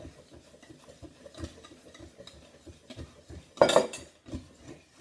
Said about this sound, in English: you add in the rest of your milk, you keep adding that in and keep whisking